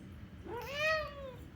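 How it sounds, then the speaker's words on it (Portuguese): A single drawn-out meow from a cat rises and falls over about a second, fairly quiet against a steady low room hum, with no talk. "meu gato concordando"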